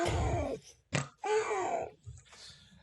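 A voice imitates a snore with rough, grunting, piglike snorts in several short bursts, close and fairly loud, separated by brief pauses.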